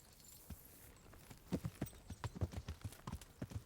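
Horse hooves clip-clopping at a steady walking pace in the medieval game Kingdom Come: Deliverance, a string of distinct close thuds and clacks in an even rhythm, with no talk over it.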